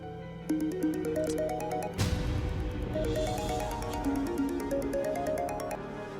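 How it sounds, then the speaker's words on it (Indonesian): A mobile phone ringtone plays a bright, repeating electronic melody that shifts into a fuller, louder tune partway through, ringing steadily with no voices. "Kok handphonenya bunyi terus?"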